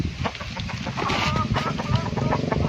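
Chickens cluck busily nearby in a village yard, a steady loud mix of clucks and bird calls filling the whole moment.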